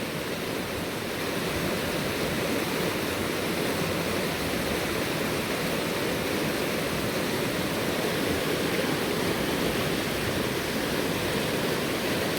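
The river Gelt, flowing from the fells, rushes steadily and loudly nearby, a constant broad wash of moving water with no breaks.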